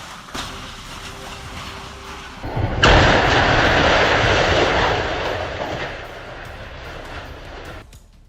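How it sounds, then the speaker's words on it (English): A train roars past, then a sudden heavy crash as it hits a car bursts out and gives way to a long, loud rumbling clatter that slowly fades. "Vehicle recklessly crossed in front of an oncoming train, resulting in a devastating collision that completely destroyed the car."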